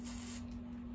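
A short, soft hiss of spray against a steady electrical hum, quiet and close.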